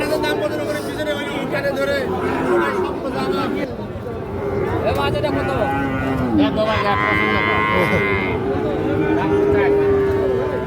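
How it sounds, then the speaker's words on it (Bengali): Several young Sahiwal bulls, about five to six months old, moo loudly and repeatedly in long, low calls, close by, with people chattering and a crowd murmuring in the background at a cattle market. "শাহিওয়াল ষাঁড়"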